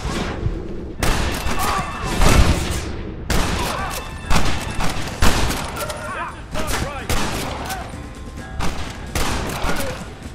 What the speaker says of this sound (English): Get ready to hold off their fire, Marston.